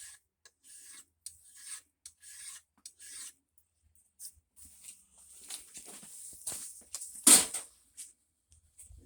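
A hand file rasps across the gasket surface of a B20 VTEC cylinder head in uneven back-and-forth strokes, mostly soft and close, with one sharper, louder scrape near the end.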